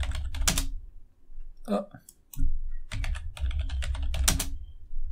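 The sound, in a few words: typing a password on a computer keyboard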